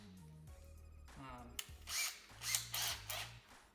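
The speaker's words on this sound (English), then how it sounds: "Now you'll have a little area to start with your smaller drill bit." A power drill with a small bit boring into a steel wheel, several short whirring bursts that rise and stop, with a voice murmuring faintly underneath at the start.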